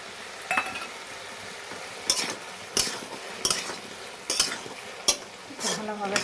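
A spoon stirring greens with mustard-poppy paste in a frying pan, giving a soft steady sizzle broken by about half a dozen sharp scraping clinks against the pan at irregular intervals.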